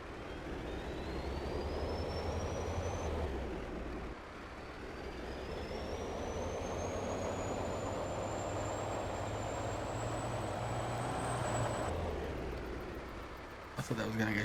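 Engine drone of a truck driving in Farming Simulator 22 on the Silverrun Forest map, a steady low rumble with a rising whine that shifts as gears change, continuing for several seconds.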